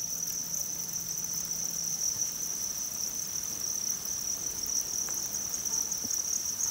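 Crickets chirping at a cricket farm: a dense, continuous high-pitched trilling chorus held at a steady level for the whole stretch, with faint background knocks and no talking.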